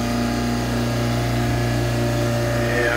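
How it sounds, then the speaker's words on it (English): A feed pump and a 1 horsepower pump motor on a reverse osmosis setup for birch sap run with a steady, loud mechanical hum and whine, constant and close with no break. "a feed pump, and then a proton pump with a 1 horsepower motor on it"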